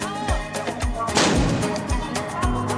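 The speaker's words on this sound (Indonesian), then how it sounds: "dentuman suara meriam sebagai penanda waktu berbuka puasa dan imsak tiba" Repeated deep booming carbide cannon shots marking the Ramadan fast-breaking time, about one every half second, with one louder blast in the middle trailing off into rumble.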